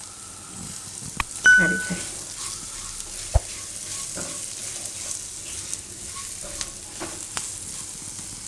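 Chillies stirred and frying gently in spiced oil over low heat with sugar added, giving a soft steady sizzle broken by scattered clinks of the spoon against the pan while a voice speaks briefly.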